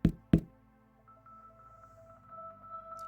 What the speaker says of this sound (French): tu entends doucement quelqu'un frapper à la porte